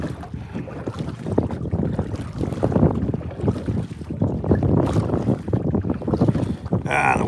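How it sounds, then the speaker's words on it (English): Strong wind gusting hard across the microphone at a lake pier, a loud continuous roaring rush with buffeting surges throughout and water movement beneath. "the wind starts blowing like really hard"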